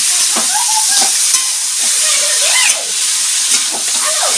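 Beetroot frying in a pan gives a constant close sizzle, with stirring and a few squeaky scrapes on top.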